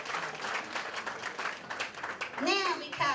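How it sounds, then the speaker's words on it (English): Applause for graduating high school seniors at a 2016 graduation celebration, with a crowd clapping steadily and voices talking over it, followed by a brief high-pitched child's squeal near the end. "Big round of applause for making that out of here"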